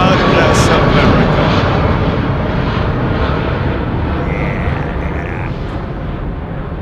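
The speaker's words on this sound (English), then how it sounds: "Another Trent engine in it, the Trent 800." Airliner powered by Rolls-Royce Trent 800 engines at London Heathrow, a loud continuous roar with a broad rumble that fades slightly over several seconds, with people talking nearby.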